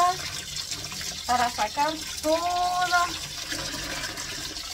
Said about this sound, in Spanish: le voy a echar agua, mucha agua